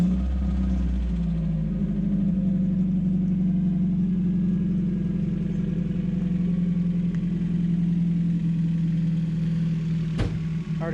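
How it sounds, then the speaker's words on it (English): A race car engine with no muffler runs loud and close, holding a deep, throbbing idle with a steady low rumble throughout, a small blip near the end and no voices. "Runs good. It's just loud. We're gonna have to get a muffler for it."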